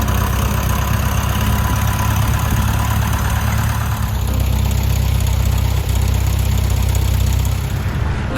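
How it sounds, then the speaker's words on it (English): A Piper Cub with no starter motor runs after its propeller is swung by hand, its engine giving a loud, continuous, close throbbing drone that stays steady throughout. "one of the most beautiful Piper Cubs I've ever seen. Very authentic with no starter motor, so it had to be hand swung"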